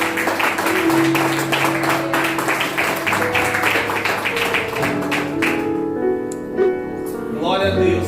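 A church congregation claps together during a sermon, a steady mass of applause with a few voices mixed in that fades into sustained music and talk near the end.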